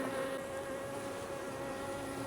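A colony of honeybees hums continuously around eight hive frames as the hive is opened, a close, even drone with a steady pitched tone running through it.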